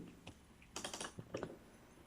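Keystrokes on a computer keyboard while entering a formula in Excel, a few scattered clicks then a short quick burst of taps, close and fairly quiet with no talking.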